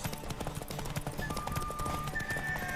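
Hooves clip-clop in a quick galloping rhythm as a horse whinnies in the video game The Witcher 3: Wild Hunt, with a steady background hum.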